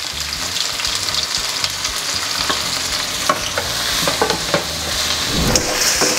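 Steady sizzling of finely chopped onions frying in a hot pan after mustard seeds, with occasional scraping and stirring clicks, close up and continuous, no talking.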